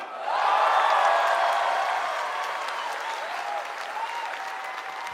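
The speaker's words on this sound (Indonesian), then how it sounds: "Tepuk tangan untuk Ratanca" Studio audience applauding a stand-up comedian on an Indonesian comedy show, a full, even wash of clapping that swells quickly and then eases to a steady lower level, with a faint voice over it.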